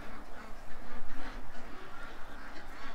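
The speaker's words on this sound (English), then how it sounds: "I got the ducks worked up and then got Doug worked up" Startled ducks quack loudly in a dense, overlapping flurry of repeated calls, close by and continuous for a few seconds.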